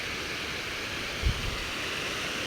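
Swift water rushing along a forest stream during a fishing outing produces a steady, even broadband roar that stays constant throughout, with one brief low thump midway and no voices.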